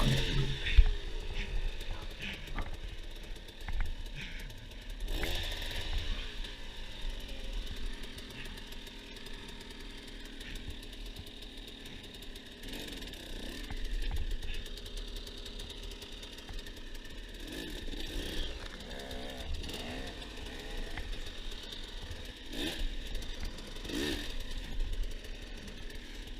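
Enduro dirt bike engine on a rocky hard enduro mountain climb, a rough idle with occasional revving bursts over a steady low rumble, fairly close, with faint voices now and then.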